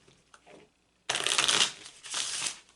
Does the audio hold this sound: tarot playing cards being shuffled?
yes